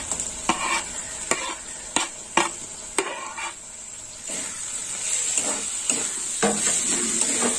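Chopped tomato is stirred and fried in a pan for a prawn malai curry, with steady sizzling and hiss broken by several sharp spatula scrapes and clinks against the pan, close and without talk.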